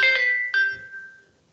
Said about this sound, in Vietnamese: xin lỗi nghe điện thoại của mình.